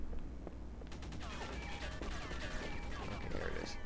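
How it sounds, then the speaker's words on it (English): Assault rifle fire in Halo 3 rattles in rapid bursts amid other game effects, a steady stream of shots over a dense background of combat noise. "That's just an assault rifle."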